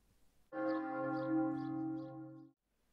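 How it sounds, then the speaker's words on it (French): A single large church bell swings and rings for about two seconds, a rich sustained tone with clear overtones, then stops abruptly against near silence. "ponctués par le son d'une cloche mise en vol"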